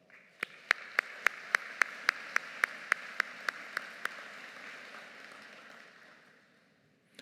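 An audience at a Brock University business school spring convocation applauds: a row of sharp, evenly spaced claps sits over a soft wash of clapping that slowly fades away.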